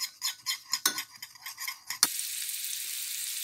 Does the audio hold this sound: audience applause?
no